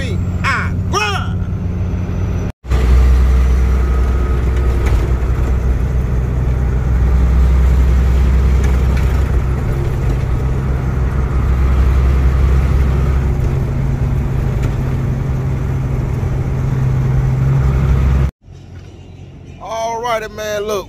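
A truck cruising along a Georgia highway makes a steady, loud drone of engine and road noise that holds evenly for most of the stretch, with brief talk at the start and end.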